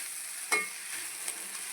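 Coconut sautéing in a pan for a Tamil okra tamarind curry, a steady soft sizzle with one brief scrape or stir near the start and another faint one later, close and alone.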